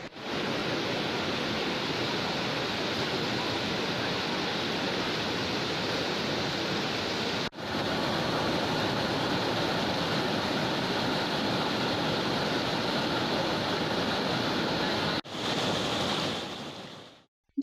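Strong, fast river current rushing after a bridge collapse, a loud continuous roaring wash heard close and alone, broken by two brief cuts and trailing off at the end.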